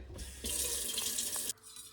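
Tap water runs into a kitchen sink as a pasta pot is filled, a steady loud gushing hiss for about a second before cutting off, with quieter room noise on either side.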